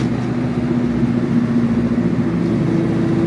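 A car fitted with a TMP Carbs VenturiLess carburetor cruises in third gear at around 1800 to 2000 RPM, producing a steady, even engine drone heard from inside.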